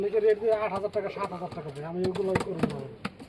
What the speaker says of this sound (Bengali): এখানে একজোড়া কবুতর দেখতে পাচ্ছি